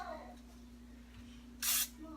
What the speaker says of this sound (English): I'm going to take my olive oil spray.